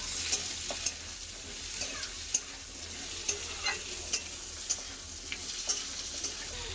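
Onion, potato and pumpkin fry in a pan while being stirred, a quiet continuous sizzle broken by regular scraping ticks of the spoon against the pan.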